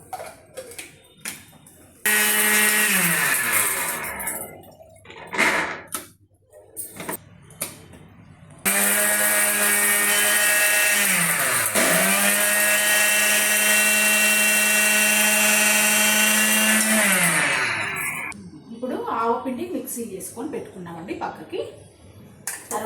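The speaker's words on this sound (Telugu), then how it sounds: "పెరుగు పచ్చళ్ళకి సరిపోయేంత కొంచెం ఉప్పు వేసుకుందాం వేసుకొని ఇట్లా మెత్తగా మిక్సీ చేసుకుందాం" A loud electric mixer grinder whirs in bursts while blending bottle gourd yogurt chutney, its motor whining and shifting pitch as it starts, runs steadily for several seconds, then stops.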